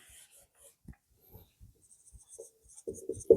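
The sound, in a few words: writing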